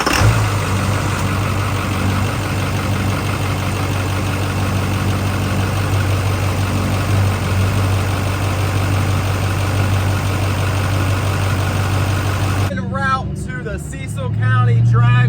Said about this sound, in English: I'm going to crank the engine over, and I'm going to hold the turbo wheel